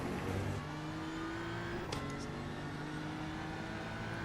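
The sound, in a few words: GT3 race car engine revving in iRacing video game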